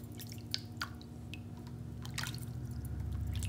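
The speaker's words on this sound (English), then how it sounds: "drip water on until the wool is all" Water drips onto wool wrapped around a bar of soap for felting, soft close irregular drips and wet patters over a quiet steady hum.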